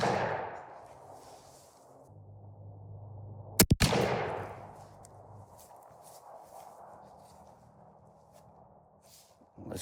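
A shotgun firing Winchester bismuth shells through a Carlson's Cremator choke lets off one sharp, loud blast in the middle, with a brief echo before it falls quiet.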